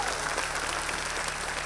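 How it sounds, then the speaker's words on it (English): An audience at a school annual day applauds, a dense, steady burst of clapping from many hands, moderately loud and unbroken. "Can I hear a thunder of applause for our Sara?"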